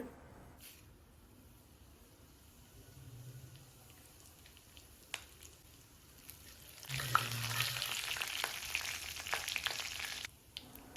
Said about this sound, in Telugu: ఆయిల్ వేడయ్యాక 1 స్పూన్ ఆవాలు, 1 స్పూన్ జీలకర్ర తీసుకోవాలండి.